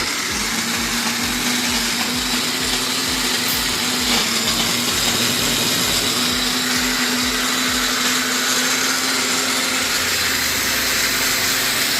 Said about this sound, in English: We're gonna start our blender.